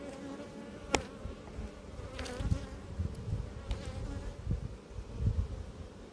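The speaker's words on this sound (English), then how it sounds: "I know there are wasps around" Wasps buzz persistently around beehives at an apiary, a continuous close drone of many insects with a few louder passes and a sharp knock near the start, no voices.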